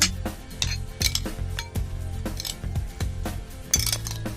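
A spoon clinks and scrapes against a bowl as a stuffing is mixed with chaat masala and tomato sauce, making quick, irregular metallic taps and rattles up close with no voices.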